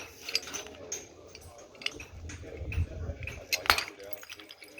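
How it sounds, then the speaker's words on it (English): A few sharp, brittle cracks of a hammerstone striking Edwards chert while flintknapping, spaced irregularly, with quiet rustling between the blows. "I'll switch back to the hammer so I have a little more power."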